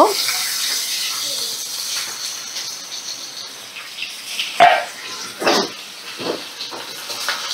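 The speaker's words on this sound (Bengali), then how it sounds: "সর্ষের তেল গরম হয়ে গেছে। এবার একটা একটা করে আমি নুন হলুদ মাখানো পমফ্রেট মাছগুলোকে কড়ার মধ্যে দিয়ে দেব।" Salted, turmeric-rubbed pomfret fish fry in hot mustard oil in a kadai, giving a continuous hissing sizzle with a few sharper bursts and crackles partway through as the pieces settle.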